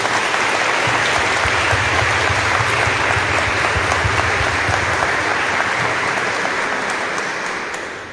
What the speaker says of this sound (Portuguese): a quem eu peço a vocês que dê uma grande salva de palmas aos dois